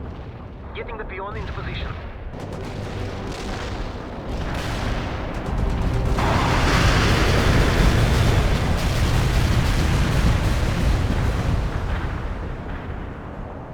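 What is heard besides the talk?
artillery barrage explosions in video game World in Conflict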